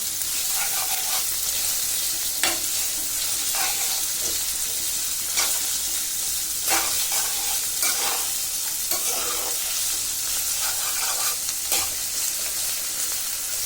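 Chopped onion, garlic, ginger and dried chilli fry in a little oil for beef tripe bhuna, a steady close sizzle with repeated scraping stirs of a spatula throughout.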